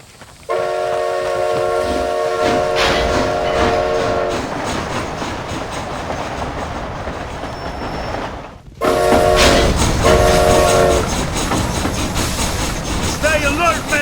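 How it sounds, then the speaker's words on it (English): A train runs in the video game Red Dead Redemption: Undead Nightmare, giving a steady rumble with clattering and whistle-like tones that break off briefly and then resume loudly, with voices talking over it. "This train headed for Mexico?"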